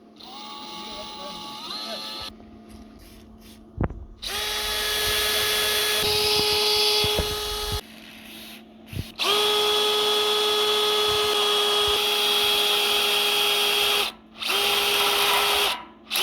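A power drill with a 5.2mm bit bores into a trailer, whining loudly in several sustained bursts with short pauses between, its pitch steady while each run lasts.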